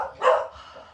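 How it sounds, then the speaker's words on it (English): Two pet dogs barking indoors, excited by movement outside; a single short bark rises over a quiet room, moderately close, with no one speaking. "So those are my two dogs."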